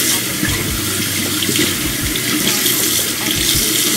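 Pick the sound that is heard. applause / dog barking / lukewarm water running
lukewarm water running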